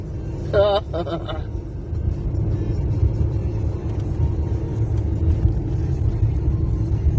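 A car drives down the road at about 35 mph with a low, steady rumble heard from inside the cabin. People talk and laugh over it the whole time.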